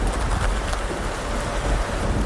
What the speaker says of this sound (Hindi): अचानक आकाश में बिजली कड़की और बारिश होने लगी।